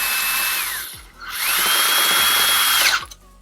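Drill bit cutting out a rivet in a Dell Optiplex computer case, two close high-pitched whirring bursts with a short pause between, the second longer and winding down at the end.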